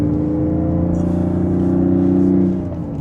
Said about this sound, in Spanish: el sonido del motor se siente no como un 6 cilindros en línea tradicional